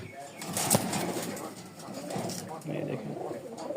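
Pigeons cooing in a loft, soft low coos repeating near the microphone, with a brief wing flutter and a person talking over them.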